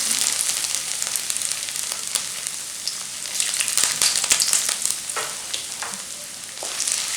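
Black pepper, chili and ginger fry briskly in a hot pan, a steady bright crackling sizzle with small pops and the occasional stir, close and continuous with no talking.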